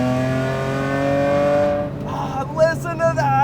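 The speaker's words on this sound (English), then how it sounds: "Listen to that engine." S50-swapped BMW E30 engine revving high, a loud, steady, harmonic-rich wail that drops off near the end and gives way to brief excited voices.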